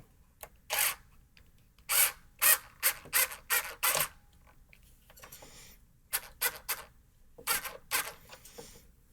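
A gold strap button is screwed in and tightened on an Ibanez Talman guitar, heard as a series of short, sharp ratcheting or clicking bursts in clusters with pauses between, close and crisp, with no talking.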